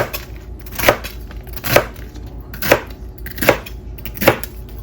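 A knife chops food into bite-sized chunks on a cutting board, five evenly spaced solid cuts about a second apart, close and clear with no talking.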